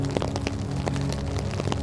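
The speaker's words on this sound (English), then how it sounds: "watching this rain pour down on me" Rain pouring down outdoors over a person standing in it, a dense steady hiss with scattered sharper drop splashes throughout and no talk.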